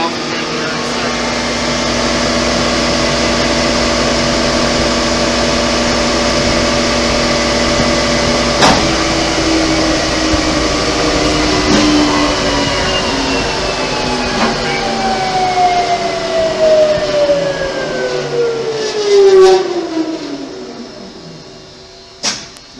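A Blanchard 22AK 42 rotary surface grinder running loud and steady with a constant mechanical drone and tonal hum, then winding down in a falling pitch as it shuts off.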